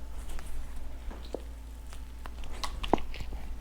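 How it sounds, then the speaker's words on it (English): Someone bites into and chews a pork hock and street corn taco with crispy pork skin. Soft, sporadic crunches and wet chewing sounds are heard up close but quietly over a low background hum. "Let's take a bite."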